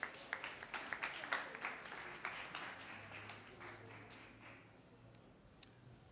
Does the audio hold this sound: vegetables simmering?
no